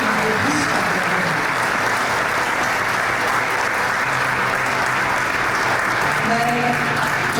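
Loud, sustained applause from a crowd welcoming the new parish priest Father Robert at a St. Antony's High School function, a dense even clatter of clapping that holds steady throughout.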